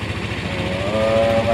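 A new motorcycle engine runs steadily nearby with a low, pulsing throb and a rising whine that climbs slightly toward the end.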